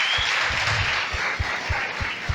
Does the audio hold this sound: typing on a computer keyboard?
no